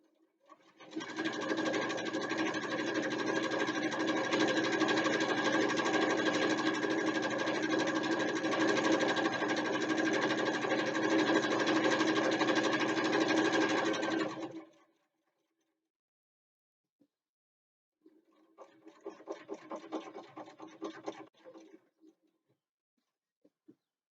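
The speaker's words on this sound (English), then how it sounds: "Top stitching almost done." Sewing machine top stitching a bookbag, running in one long steady burst for about fourteen seconds, then a short, lighter stitching run after a pause.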